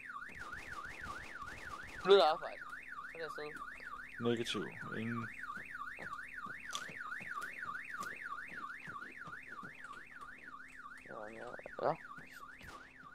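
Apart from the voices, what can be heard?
alarm going off in video game Arma 3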